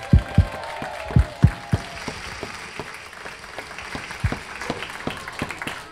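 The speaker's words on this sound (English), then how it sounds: "so give your kids a round of applause." Scattered, uneven hand claps from an audience at an elementary school talent show, a few sharp near claps at first, then lighter, sparser clapping thinning out over several seconds.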